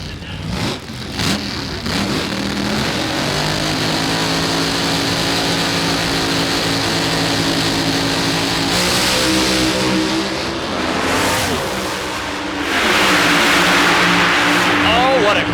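Drag race cars roar and accelerate hard down the strip at Pomona, California, in a Lucas Oil Racing Series event, a loud sustained engine wail that swells near the end, with an announcer talking over it.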